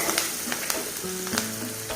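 Oil sizzling in a pan for a chana masala before whole spices go in, a close, steady frying crackle with a few light taps.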